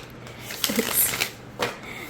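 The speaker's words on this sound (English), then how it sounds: "I zoomed out so that we can see how this shuffles" A tarot-size Messenger Oracle card deck on sturdy cardstock is shuffled by hand, giving soft papery rustles broken by a few quick, crisp riffling bursts close by.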